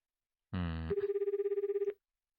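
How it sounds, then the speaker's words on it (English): A phone ringing during a call in the visual novel game 9-nine-, one short burst of a warbling electronic ring tone lasting about a second, right after a brief low voiced grunt or sound effect. "The ringing noise continues."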